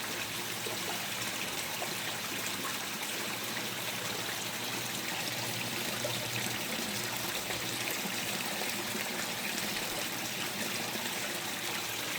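Small creek of flowing water in an indoor grow setup, a steady close trickle and babble that continues evenly without pause and without talk.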